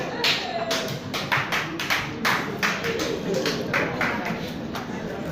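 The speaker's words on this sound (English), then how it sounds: "Let's clap for them as they come out." An audience at a workshop presentation in Gboko, Benue State claps as a group of presenters comes out, a steady run of close, sharp hand claps with murmuring voices beneath.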